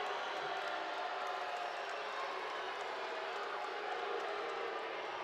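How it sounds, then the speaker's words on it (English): A crowd at an indoor soccer match between Utica City FC and the St. Louis Ambush keeps up a steady, dense roar of booing at the referees, with applause mixed in, sustained and even throughout. "Fans raining boos on the refereeing crew and some applauding SK's effort."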